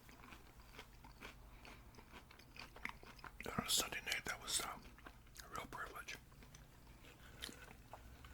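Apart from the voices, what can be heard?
crunchy bites of Lee's spicy extra crispy fried chicken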